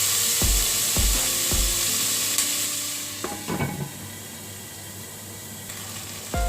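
Tomatoes cooking in a covered pan for adobong pusit, a steady low sizzle and simmer with a few sharp knocks and clinks of a lid or spoon near the start, then a quieter bubbling hiss.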